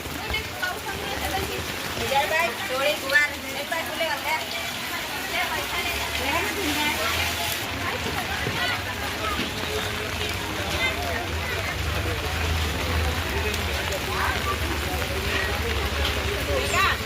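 Heavy monsoon rain falls in a steady, dense wash of patter across the whole stretch, with people talking underneath it.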